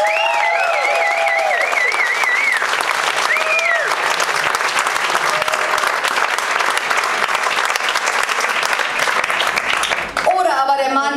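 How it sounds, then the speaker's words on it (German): Sustained dense applause from an audience at a food science slam fills the room, loud and steady throughout, with a few tonal whistles or electronic notes sounding over the start and end. "dann applaudiert bitte jetzt"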